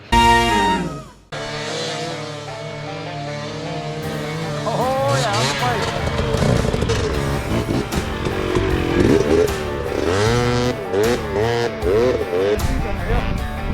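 A KTM 250 dirt bike converted to a snowbike with a Moto-Trax kit revs loud and near, its engine note climbing and falling through gear changes as it is ridden, after a brief sharp start.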